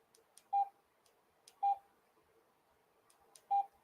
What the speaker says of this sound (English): we're going to turn off this annoying beep.